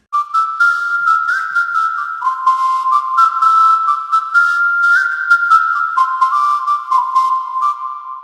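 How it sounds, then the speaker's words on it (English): A whistled melody run through Autotune in FL Studio, its pitch snapped into clean, stepped notes that glide between held tones, loud and continuous for the whole stretch with no talking. "this Autotune actually makes it real easy to have your whistle sound really awesome"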